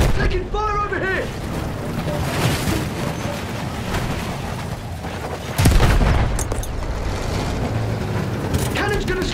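Cannon fire in a Battlefield naval battle: a heavy boom bursts out partway through, layered over a constant rumble of engines and water, with shouting voices heard before and after.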